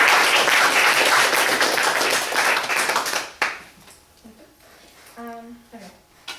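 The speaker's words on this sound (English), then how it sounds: "Let's give everyone a round of applause." Audience applause, dense and steady for about three seconds before fading out, followed by quiet room noise and a brief tonal sound.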